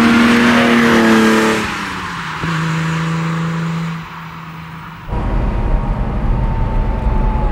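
A 1980 BMW M1 sports car with low mileage drives past, its engine loud and close and revving high before the pitch drops, then settling into a steady drone and rising again into a harsher roar.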